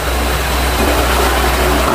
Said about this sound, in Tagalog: Ayan na ang makina niya ngayon. Malakas guys.